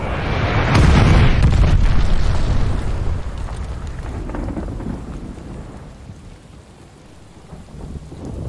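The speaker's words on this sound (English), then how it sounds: "enemy glide bomb coming in hot" Enemy glide bomb exploding in Call of Duty Vanguard multiplayer: a heavy booming blast that swells loudly, then rolls into a long rumbling decay.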